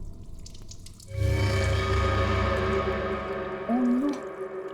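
Water starts running from a tap after a moment, a steady close gush filling a bathroom tub, with a brief low hum near the end.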